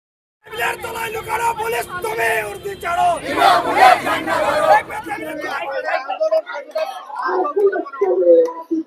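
Left supporters blocking a road at Keranitala chant slogans in support of a bandh. Loud, overlapping shouted voices rise together at close range, then thin out into scattered calls and talk near the end.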